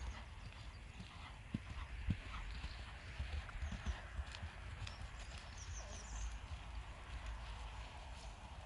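A horse trots on an arena surface with steady rhythmic hoofbeats, fairly faint under outdoor ambience.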